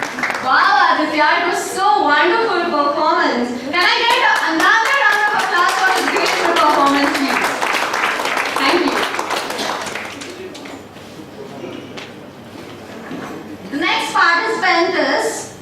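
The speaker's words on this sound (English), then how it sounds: "Can I get another round of applause for his great" At an Independence Day celebration, an audience claps after a child's performance, with rhythmic hand claps heard under and between a voice and other talk, fading for a stretch before rising again at the end.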